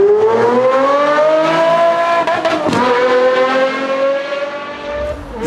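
A Mercedes R129 SL's four-cam V12 revs hard and loud, its smooth rising-and-falling harmonic whine holding steady for several seconds with a brief dip midway, close and without talk.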